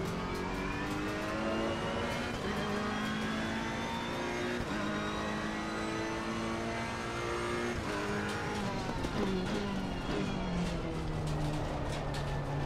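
A race car in a racing video game laps the track, its engine whining through rising and falling revs with gear shifts and a faint tire squeal, steady and fairly quiet with no talk.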